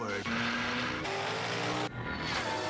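A Mazda RX-7 with a Wankel rotary engine drives past, loud and close, its engine note rising and then shifting pitch through gear changes, with some tire noise.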